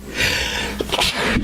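A single sharp sneeze, close and loud, with a breathy burst and a short nasal finish.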